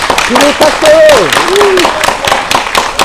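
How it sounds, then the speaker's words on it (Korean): An audience at an academic conference breaks into applause, a crowd of hands clapping in a fast, dense patter that carries on throughout, while a voice speaks over it. "잘하셨으면 크게 박수 한번 쳐주십시오"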